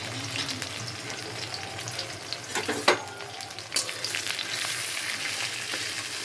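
Jackfruit coated in ground chickpea-lentil paste with a little rice flour frying on a low flame, a steady moderate sizzle with a few sharp scrapes and clinks of a stirring spoon, no talking.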